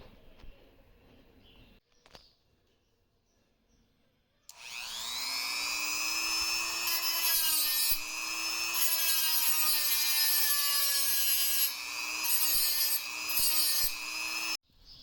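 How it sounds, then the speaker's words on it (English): A Wen rotary tool with a small drum grinder grinding metal for a custom 1/10 scale Grom build, a high steady whine that starts abruptly after a quiet stretch and holds close and loud with slight dips. "With a few attempts with the little drum grinder on there, I was able to go ahead and get this right down to exactly 238 millimeters"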